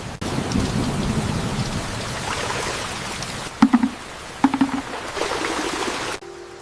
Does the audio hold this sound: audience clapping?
no